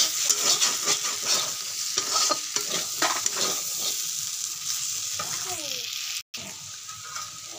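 Potato and eggplant bhujiya cooks in a pan and is being covered, giving a continuous sizzle with frequent stirring scrapes and clatter, then a sharp clack, and a voice is faintly heard.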